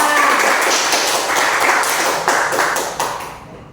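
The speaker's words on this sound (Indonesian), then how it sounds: "Tepuk tangan untuk kita semua" Students in a classroom clap their hands together after a math lesson, a steady dense burst of claps lasting a few seconds that tapers off at the end.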